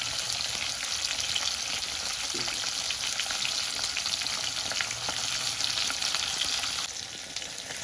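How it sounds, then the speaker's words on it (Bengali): Dhela fish frying in a pan for a potato and fish curry, a steady dense sizzle of hot oil crackling throughout, close and continuous with no voices. "মাছ বসিয়ে দিলাম, আর একবার হবে।"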